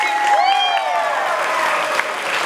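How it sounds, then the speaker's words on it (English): A school band concert audience applauds steadily for young band students, with high-pitched voices and cheering whoops layered over the continuous clapping. "Give them one more huge round of applause."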